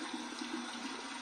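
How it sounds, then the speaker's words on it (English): A shaving razor blade rinsed under a running cold tap, a constant hiss of flowing water held at an even level, close up and with no speech. "we're going to run under some cold water and then run it on over the face"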